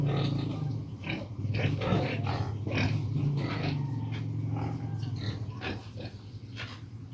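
Pigs grunt and squeal continuously at feeding time on a farm, with dense overlapping snorts and guttural calls at close range, while a person talks intermittently over them.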